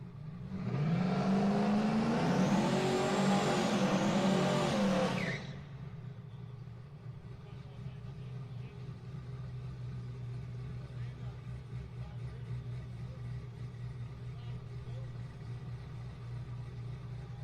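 A triple-charged drag racing car running nitrous, a Procharger and a turbo at drag radial testing, its engine screaming loud and close for about five seconds before dropping to a steady lower rumble.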